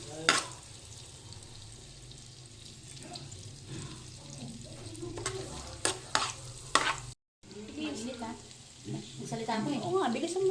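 Butter and garlic frying in an oiled pan, a soft continuous sizzle with scraping stirs and utensil knocks, interrupted by a brief gap before the frying picks back up.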